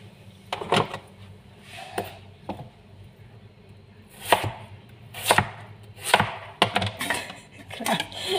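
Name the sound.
chopping food with a knife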